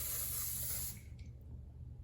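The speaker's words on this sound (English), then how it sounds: "So I'm gonna spray it." An aerosol sunscreen can spraying in one steady hiss for about a second, then cutting off into quiet room tone.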